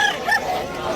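Chickens at a Bulacan pet market, with a rooster crowing and clucking close by over a busy crowd murmur, all within one short burst.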